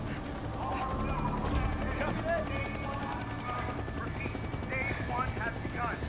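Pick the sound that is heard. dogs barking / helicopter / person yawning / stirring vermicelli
helicopter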